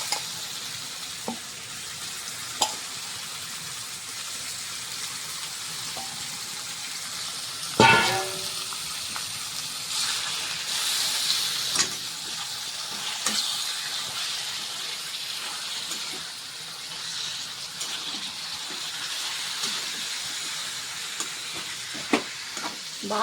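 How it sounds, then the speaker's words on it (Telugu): Chicken fries in hot oil with a continuous soft sizzle and hiss, punctuated by scattered clicks and scrapes of stirring, including one sharp clatter partway through. "ఇందాక కలిపి పెట్టుకున్న చికెన్ వేసుకొని కలుపుకుందాం."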